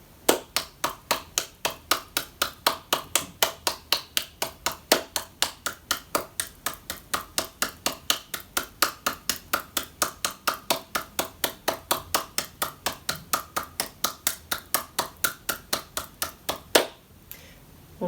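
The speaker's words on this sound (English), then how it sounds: "we're going to begin just a traditional clap, so hands together, clapping." One person claps steadily in a yoga session for the hands, a brisk, even run of sharp claps continuing for most of the stretch, close and alone with no talk, ending in a single louder clap.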